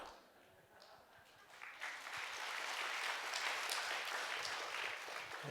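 Church audience at a special worship gathering breaking into applause, starting faint and swelling into a dense, sustained clapping that holds steady to the end.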